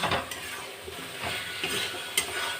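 Chopped cabbage cooks in a pan on a home stove, a soft steady sizzle broken by a few light stirring scrapes and clinks, with no talk.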